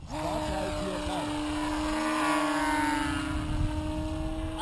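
High-pitched whine of an F5D racing model plane with a Kontronik geardrive electric motor and folding prop, loud and steady with a rising tone, under background chatter and field noise at a competition.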